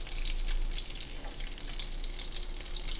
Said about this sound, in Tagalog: Pinainit ko na yung mantika, oh. Piprito natin.